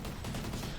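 A quick burst of rapid gunfire during a competitive Call of Duty match, dense and steady over a fraction of a second.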